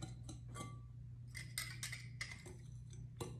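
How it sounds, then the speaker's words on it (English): Whisking liquid coconut oil into scone dough in a bowl, with quiet clinking and scraping taps of the whisk against the bowl in irregular bursts over a steady low hum. "Then I'm just gonna whisk it into till I get crumbles."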